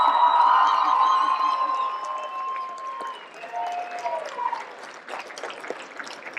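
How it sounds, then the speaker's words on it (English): An auditorium audience at a high school graduation ceremony applauds and cheers, with whistles and calls over steady clapping that thins out toward the end. "Go ahead, clap one more time."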